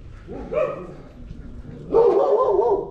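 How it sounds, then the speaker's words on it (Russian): Several street dogs in a Yalta city square give two short nearby bursts of barking. The barks are fairly loud and rough, with a pause between them. "Блин, сколько же здесь собак, господи."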